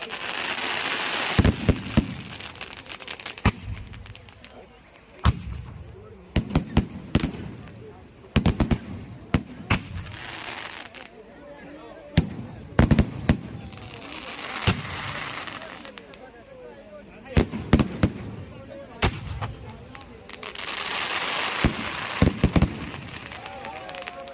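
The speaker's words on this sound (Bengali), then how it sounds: "অভিনব আতশবাজি প্রদর্শন মোহনার সমুদ্র সৈকতে" Fireworks crack and pop in repeated bursts on Digha Mohona sea beach, with hissing launches and rumbling booms between them, and crowd noise in the background.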